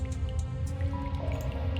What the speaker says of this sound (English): Water keeps dripping down from the side of the ceiling near the window